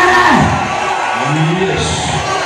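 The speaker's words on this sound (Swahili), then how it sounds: "Wapi shangwe na vigelegele?" A church gathering's crowd cheers and ululates with rising whoops and shouts, loud and close, in a dense celebratory din with voices mixed in.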